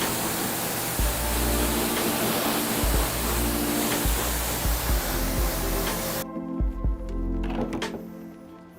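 Water sprays from a hose to rinse residue off car paint after decontamination, a loud, close, broadband hiss with low splattering thumps that cuts off sharply near the end, leaving faint drips and knocks.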